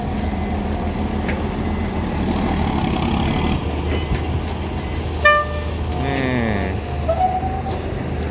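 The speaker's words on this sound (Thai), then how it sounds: "หกล้อครับ" A six-wheeler truck passing on a road, its engine rumbling steadily nearby, with a short horn toot in the middle and a whining, sweeping tone as it goes by.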